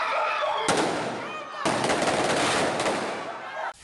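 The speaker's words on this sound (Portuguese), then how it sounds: "a tradicional guerra de espadas não faltou nas ruas da capital baiana. As explosões assustam." Street rocket fireworks hissing and bursting in a guerra de espadas, where groups fire rockets at each other in the streets of Salvador, Bahia; two loud, crackling, sustained roaring blasts fill the space.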